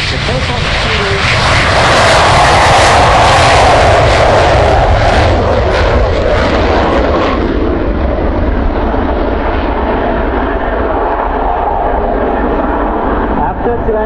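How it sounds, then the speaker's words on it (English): Turkish Stars jet aircraft in formation roll down the runway for takeoff, a loud continuous roar of jet engines that rises and then eases slightly as they move away. "first engine formation on takeoff roll"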